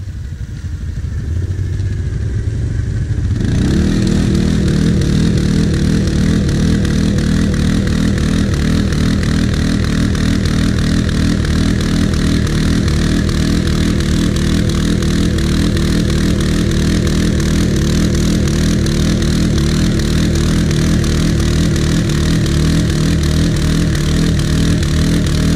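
A CF-Moto quad's engine starts up after a few quiet seconds and then runs loudly and steadily at a rough, throbbing idle, close by with no talk.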